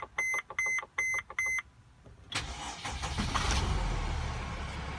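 Four short electronic beeps sound as the ignition turns on a Mercedes Sprinter van, then after a brief pause the engine cranks and catches, settling into a loud, steady idle close by.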